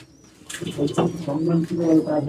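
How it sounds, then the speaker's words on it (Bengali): Madrasi pigeons coo in a loft, a steady run of soft, throaty calls layered close together with a few brief higher chirps. "এই দেখে নিন পায়রা"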